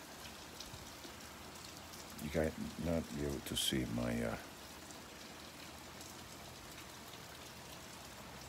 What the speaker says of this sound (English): it's pouring raining.